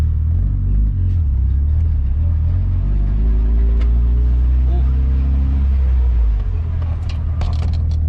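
A car's engine rumbles on a sketchy first test drive after repairs, a loud, close low drone that rises in pitch as it pulls and then settles, with someone talking over it.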